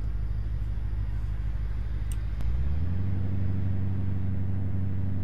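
A rough-sounding car engine idles in the video game Car Mechanic Simulator 2018, a steady low rumble that drops into a deeper, heavier drone about halfway through.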